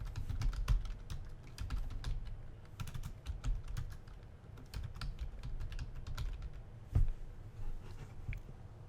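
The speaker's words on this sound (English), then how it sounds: "I'm going to type some places I want to visit" Someone types into a PowerPoint text box on a computer keyboard: quick, irregular bursts of crisp key clicks, close up, with a heavier thump now and then.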